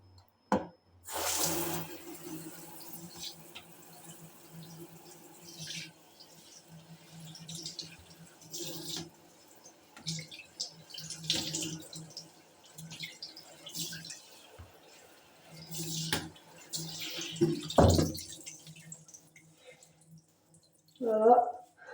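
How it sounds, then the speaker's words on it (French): Tap water runs steadily while hair is rinsed under it at a comfortable temperature, the flow shifting and splashing with brief interruptions, close and moderately loud, with occasional faint voice in the background. "Je vais les rincer pas trop chaud ni trop froid."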